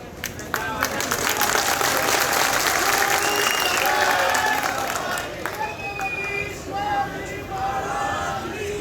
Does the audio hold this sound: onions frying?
no